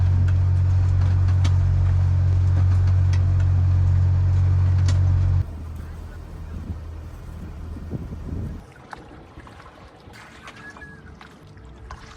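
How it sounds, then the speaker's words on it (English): A sailboat's motor drones loudly and steadily while motor sailing off the Norwegian coast, then cuts to a quieter rumble with water and wind noise, no voices. "this way we can also motor sail"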